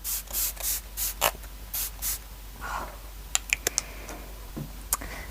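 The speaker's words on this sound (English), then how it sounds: "spray with this Smashbox Photo Finish" Several short, soft hissing bursts of Smashbox Photo Finish Primer Water facial mist in a quick series, followed by faint clicks and taps in a quiet room.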